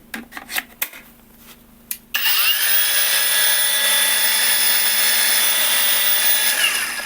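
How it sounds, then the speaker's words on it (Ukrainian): A Procraft AG125C cordless battery angle grinder starts after a few clicks and handling knocks, then runs at a steady, loud high whine for several seconds, close by, with no talk. "На цих всіх трьох батарейках ця болгарочка працює без проблем."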